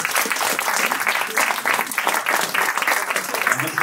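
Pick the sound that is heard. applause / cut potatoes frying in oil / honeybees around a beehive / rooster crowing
applause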